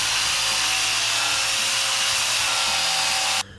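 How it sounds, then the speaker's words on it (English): A 15-amp angle grinder grinds paint off a 1940s bandsaw, a loud, steady high-pitched whine that holds without pause before cutting out abruptly at the end. "the hours I listened to the song of my people, the 15-amp angle grinder."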